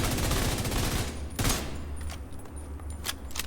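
Sustained automatic weapon fire from the Division 2 video game, a dense rapid burst that then breaks into scattered shots with metallic clinks, loud and close with no voices.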